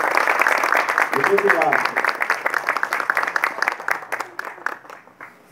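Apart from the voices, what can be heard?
audience applause at shop inauguration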